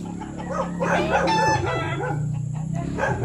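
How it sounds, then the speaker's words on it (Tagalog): Chickens cluck steadily nearby while a rooster crows loudly partway through, with other hens calling in the background. "May mga manok pa dito sa kabila."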